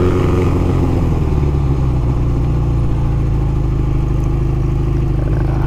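A 1981 Honda CB900F motorcycle engine running steadily nearby, a loud, constant mid-pitched rumble with fine mechanical clatter and no clear revving, holding the same level for about six seconds.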